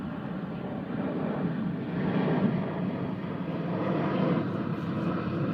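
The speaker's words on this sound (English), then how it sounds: "Sorry guys, plane." An airplane passes overhead outdoors, a steady low engine rumble swelling slightly as it nears and fading again, fairly distant and continuous with no talk.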